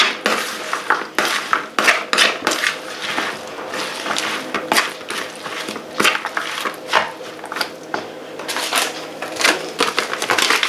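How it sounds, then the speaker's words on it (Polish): Spinach with sun-dried tomato paste, heavily peppered, stirred in a pan: quick irregular metallic scrapes and clinks of a utensil against the pan, loud and close, with no talking. "Oczywiście znowu mieszamy."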